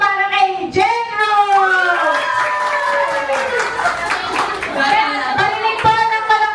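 An audience at a thanksgiving party applauds in steady, dense clapping that continues throughout, mixed with loud voices and cheering from the crowd.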